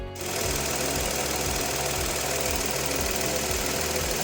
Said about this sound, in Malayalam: ഒരു എൻജിൻ ബേയിൽ നിന്ന് ഒരു സൗണ്ട് കേൾക്കാം